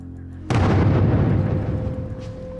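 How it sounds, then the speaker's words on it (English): In a 1942 war game battle between German and Russian soldiers, an artillery shell explodes with a sudden loud boom, followed by a long rumbling decay and a lingering tone. "Right, I see artillery going in now."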